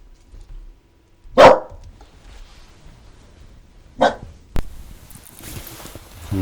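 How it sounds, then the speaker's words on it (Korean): A dog barks indoors during a lecture, with two sharp, loud barks a few seconds apart and a small yelp after, against a quiet background with no talk over them. "강아지가 짖어서 죄송합니다"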